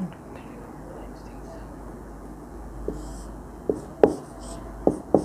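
Handwriting with a pen during an immunology lesson, faint scratchy strokes under a quiet room hiss, then a few sharper taps and scrapes toward the end as the pen moves across the surface.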